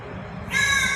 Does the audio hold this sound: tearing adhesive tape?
no